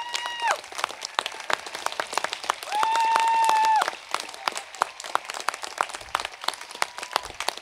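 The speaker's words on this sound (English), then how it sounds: "Please join me in applauding these dedicated educators who make a difference in the" A crowd at a college commencement ceremony applauds steadily in an open space, with sharp scattered claps throughout. Sustained tones, like a horn or whistle, sound over the clapping in short bursts.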